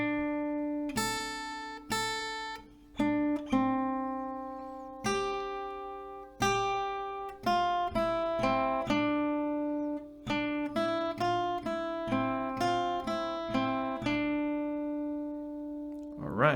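Guitar plays the chord progression of a song slowly, a steady series of plucked and strummed chords, each ringing out before the next, clear and close with no talking.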